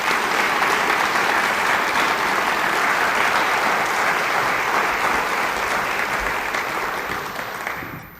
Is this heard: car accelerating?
no